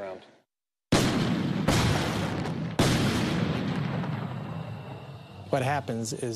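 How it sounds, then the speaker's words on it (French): A sudden deep boom from an airburst bomb detonating above the ground erupts after near silence, followed by further heavy blasts and a long rumbling roar, with a voice speaking near the end. "Cette détonation au-dessus du sol augmente énormément le rayon de destruction de la bombe."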